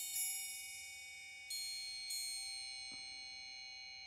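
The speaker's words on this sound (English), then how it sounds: "I'll also use some triangles, more ringing metal here." Several bright metallic strikes of a triangle, each leaving a long shimmering ring that overlaps the last, with a softer tap near the end.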